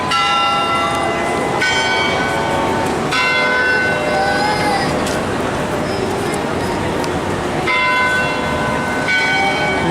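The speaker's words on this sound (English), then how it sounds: "I'm not sure what those rings are about, the bells." Loud church-style bells ring out repeatedly over busy street traffic on Washington Street in downtown Boston, with several struck tones overlapping and sustaining throughout.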